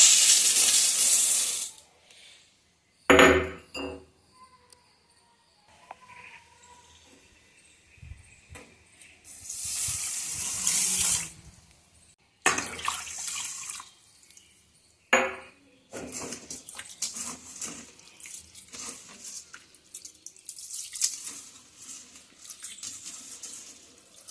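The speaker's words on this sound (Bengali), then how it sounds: "এখন আমি চালটা ধুয়ে নেব ধুয়ে আর কি ভিজিয়ে রাখবো" Rice being washed in a kitchen under a running tap, with bursts of loud gushing water separated by quieter stretches of clinking pot, rinsing and swishing grains, close by and without talk.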